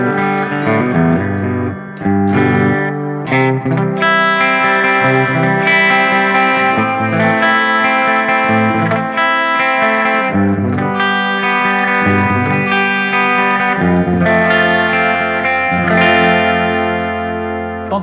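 Electric guitar played through an amp model on a Valeton GP-200 multi-effects unit with spring reverb, slightly distorted chords and notes ringing out loud and continuous with a washy reverb tail.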